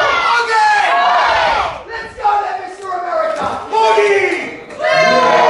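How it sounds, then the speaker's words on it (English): A British wrestling crowd jeers and chants at an American wrestler during a match against veteran Phil Powers, with loud, surging, rhythmic group shouts rising and dropping in waves and voices in unison close and full. "the British crowd not endearing themselves to the American right here"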